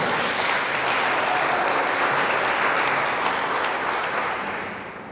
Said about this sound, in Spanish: De ese aplauso fuerte si se lo va a dar a Cristo.